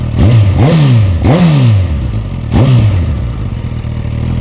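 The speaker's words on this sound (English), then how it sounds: "Quite a good bassy note on that. Let's give it a rev." A Suzuki Katana inline-four motorcycle engine from 2019 is revved three times up close, with each deep, bassy blip rising sharply and falling back to a loud idle between them.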